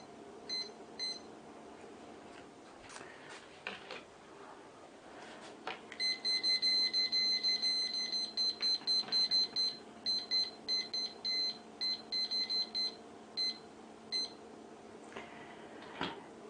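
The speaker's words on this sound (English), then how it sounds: "I will now start my timer for 30 minutes." Electronic beeps from a kitchen timer being set beside a stovetop pressure canner, short repeated bleeps in quick runs with pauses between, fairly clear over a steady low hum.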